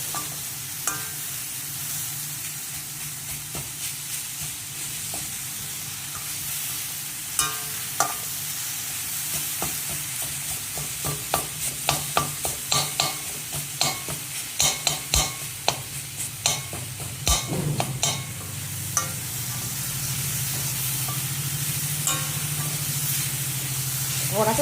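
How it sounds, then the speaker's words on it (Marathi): Grated coconut roasting in a little ghee in a pan, a continuous sizzling hiss broken by a long run of irregular spatula scrapes and knocks against the metal, with a brief low hum near the end. "थोडंसं तूप घालूनच भाजायला लागतं"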